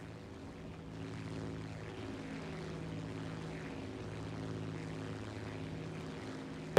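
A propeller airplane engine in the War Thunder video game drones steadily throughout, a loud, constant buzzing tone with stable harmonics and no noticeable change in pitch.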